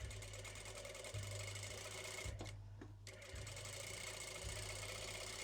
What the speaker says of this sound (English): And this piece here that I'm sewing now is, of course, that first fold that we did.